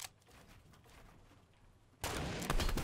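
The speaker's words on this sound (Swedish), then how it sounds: "Åh, det var skott." Quiet Fortnite game background, then a sudden loud burst of rapid gunfire for the last second or so.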